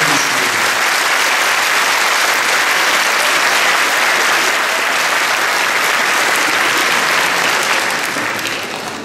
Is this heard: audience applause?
yes